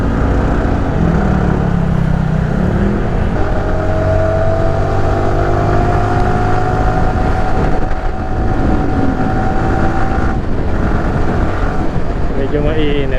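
Road traffic in Sampaloc, Talisay, Batangas: a steady, loud engine and road rumble from passing and idling vehicles, continuous throughout, with a slowly shifting engine tone.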